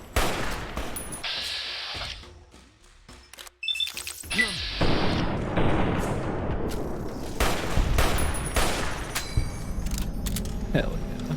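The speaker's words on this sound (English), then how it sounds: "This gun rules. I love this gun." Rapid automatic gunfire in a video game, loud bursts and sustained volleys with mechanical clatter and crashes, broken by a brief lull, while a person talks excitedly over the shooting.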